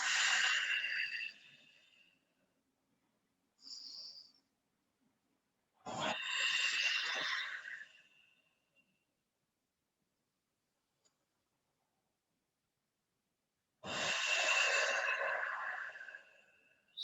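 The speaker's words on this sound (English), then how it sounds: "breathing in through the nose, breathing out, piercing the lips" During a yoga flow, a person breathes in through the nose and out through pursed lips in slow, airy breaths, close and alone, with long silent pauses between them.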